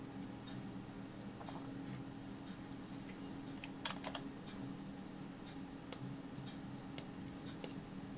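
Soft, irregular keyboard clicks tapping away over a steady low hum, faint and close, with a few sharper key strikes standing out.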